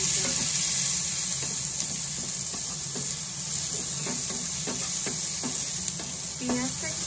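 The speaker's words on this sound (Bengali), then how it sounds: "এবার একটু টমেটোটা দিয়ে দিলাম" Tomato added to well-browned onion frying in a pan for an aloo paratha filling, producing a steady broadband sizzle with repeated scraping stir strokes of a spatula, close and fairly loud.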